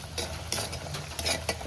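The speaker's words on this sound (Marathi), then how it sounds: "वेलची पावडर पण अशी चांगली मिक्स करून घेऊया" Stirring cardamom powder into melted jaggery and coconut in a pan for sweet coconut rice: several soft scraping strokes of a spoon against the pan, close up, alongside a faint sizzle and no talking.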